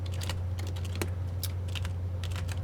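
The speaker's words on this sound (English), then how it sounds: "Thank you for typing it." Fingers tap on a computer keyboard in quick irregular bursts of crisp clicks, close by, over a steady low electrical hum.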